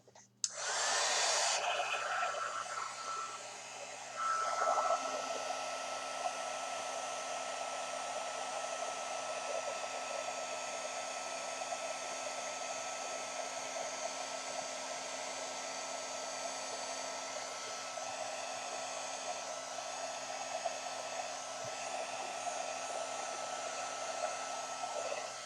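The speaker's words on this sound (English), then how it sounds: "And we're also going to heat this up." A heat tool for embossing on a handmade gold-embossed sympathy card blows continuously at close range, a steady loud whoosh held for the whole stretch with a brief dip near the start, no talking.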